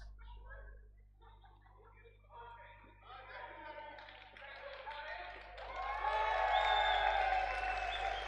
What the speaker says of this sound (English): So our match officials getting the applause that they deserve.